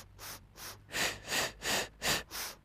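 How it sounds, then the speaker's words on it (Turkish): A person doing a Pilates inner-thigh exercise takes a series of sharp nasal inhales, about seven short sniffing breaths in a steady rhythm, close and alone without talk. "4 kere burundan nefes al."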